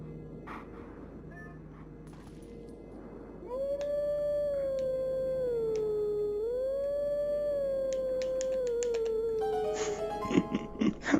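A golden wolf in the video game Zelda Twilight Princess lets out a long, loud, wavering howl that rises and dips in pitch over several seconds, set over a soft ambient game backdrop with some brief sharp effects near the end.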